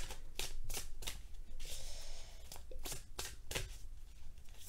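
Oracle cards shuffled for a reading, crisp riffling and flapping bursts repeating in quick succession, close and fairly loud, with a longer continuous rustle in the middle.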